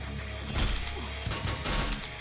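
Gunfire in the battle-royale game Free Fire, with several loud bursts of shots and impacts arriving in quick succession over a busy, noisy background.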